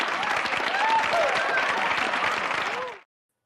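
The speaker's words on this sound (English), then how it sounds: "Let's give a live stream round of applause to Becky B." Live-stream audience applause for a talk show guest, dense and loud, a continuous wash of many clapping hands with some cheering that stops abruptly after about three seconds.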